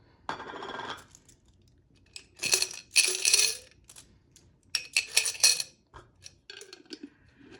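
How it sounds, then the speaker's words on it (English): Larger coins fall into a container in several separate bursts, heavy metallic clinks and chinks clattering together, close up and with no voices. "And then we'll put the larger coins in here."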